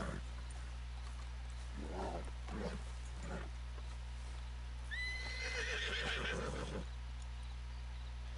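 A Nakota horse in the Red Dead Redemption 2 game gives a long, rising whinny midway through, preceded by soft snorts and hoof sounds over a steady low hum, fairly close but modest in level.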